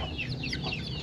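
Chicks peeping and clucking inside a closed cardboard box, a dense continuous chatter of small birds close by with no pauses.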